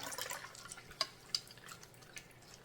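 Water drips from cooked shrimp sitting in a strainer, a few sharp drops and small trickles over a quiet background.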